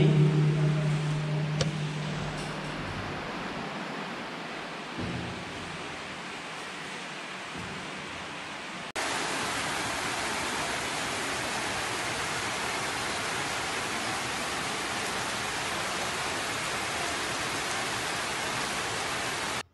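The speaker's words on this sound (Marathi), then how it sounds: "पाऊस थोडासा कमी झाला आहे" Rain falls at a hilltop fort temple, a steady broad hiss of downpour that swells louder partway through and continues evenly, with only indistinct background at the start.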